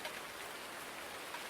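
Steady rain hisses evenly in Farming Simulator 19 on PS4, a dense, constant patter with no talk over it.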